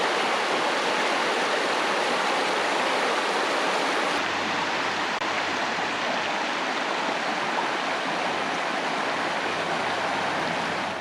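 Steady rushing water of a river flowing through Tasmanian rainforest near Nelson Falls, broad and constant, fairly loud and close, with no other sounds.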